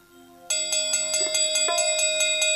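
A metal bell is struck repeatedly at a folk Mahishasura-vadh tableau performance, ringing in a steady rhythm of clear, loud strikes with sustained overlapping tones, starting after a brief quiet moment.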